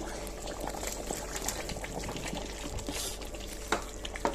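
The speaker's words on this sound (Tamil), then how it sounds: "கருவாடு கொட்டிடலாம்." Dried fish tipped into a hot cooking pan for a fish curry, giving steady sizzling and bubbling with soft clatters and scrapes up close.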